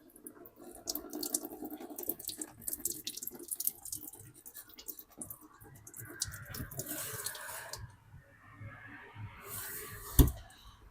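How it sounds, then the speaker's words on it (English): Motor oil draining from a loosened oil filter on an LS engine, a trickling, splashing flow with small drips and clicks, up close and moderately quiet, ending in a sharper knock. "oil filter draining, go on and get it taken off the rest of the way."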